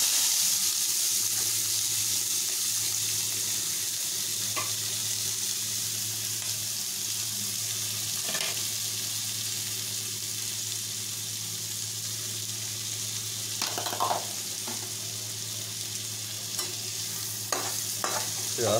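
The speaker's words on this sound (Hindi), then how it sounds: "अब इसमें प्याज डाल देंगे" Onions fry in hot oil with cumin seeds and cinnamon, a strong, even sizzle over a low background hum, with occasional stirring clinks and scrapes toward the end.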